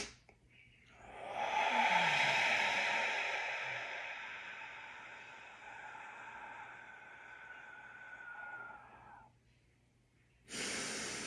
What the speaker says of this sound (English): And then slow exhale. Mouth open, just nice and relaxed. Full exhale.